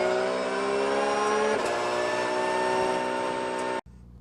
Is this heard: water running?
no